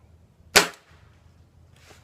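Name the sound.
Gamo Whisper Fusion Elite air rifle shooting lead pellet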